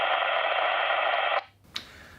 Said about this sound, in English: The signals analog radios use also fade over distance until they reach their maximum distance and turn into white noise